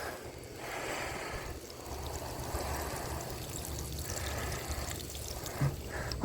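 Water poured from a bucket over a backyard garden bed, a steady splashing and trickling stream that keeps on without a break and stays close to the listener.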